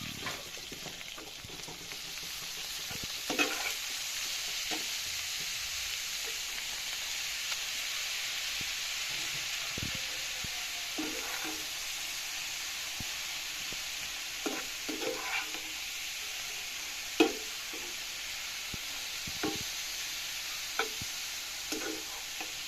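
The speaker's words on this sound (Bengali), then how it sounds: "ডিমটা ভাজা হয়ে গেছে, আমি এখন শাকগুলো আবার দিয়ে" Radish greens frying with egg in a pan give a steady, soft sizzle and hiss, broken now and then by brief scraping and stirring clicks. There is no talking.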